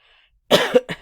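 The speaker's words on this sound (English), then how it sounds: "Had to cough there for a quick moment." A single close cough burst followed by a couple of shorter throaty coughs, after a moment of near silence.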